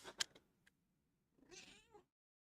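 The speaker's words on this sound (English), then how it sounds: "Please tell me you guys can hear the meow." A single soft cat meow, rising then falling, follows a few faint clicks and a short pause; quiet and close, with no talking.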